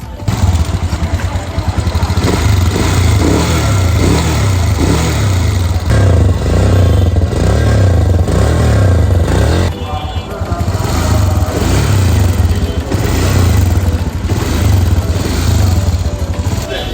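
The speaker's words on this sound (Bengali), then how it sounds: "তো গাইজ দেখলেনি অনেক সাউন্ড ইঞ্জিনে" A used motorcycle engine with a faulty, noisy engine and a cut seal runs steadily and loudly, with a rough, uneven low rumble and some rattling noise throughout, close by.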